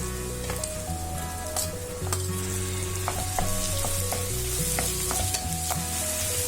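Steady sizzling of ginger-garlic paste sautéing in a hot pan for prawn gravy, with occasional scraping and stirring clinks, continuous and close, no voices.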